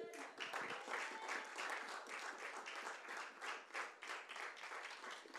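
A church congregation applauds and cheers, with dense, sustained clapping and scattered voices filling the room steadily from start to finish.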